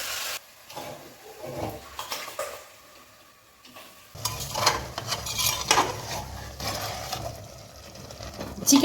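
Marinated chicken stirred in a pressure cooker, metal spoon scraping and clinking against the pot amid low sizzling, with a quieter stretch before the stirring grows busier and louder.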